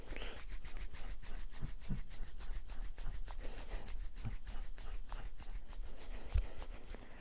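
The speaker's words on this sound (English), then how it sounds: "Rubbing the ears." Hands rub the ears during a qigong class, giving a steady, soft brushing friction with a quick repeating rhythm that runs close and continuous for the whole stretch, with no talking.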